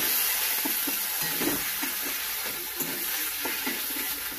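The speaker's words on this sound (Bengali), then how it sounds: "মশলাটা আমি একটু করে কষিয়ে নেব" Spice paste of ground ginger, cumin, mustard and poppy seed frying in a pan, giving a dense, constant hiss with faint, irregular stirring taps beneath it.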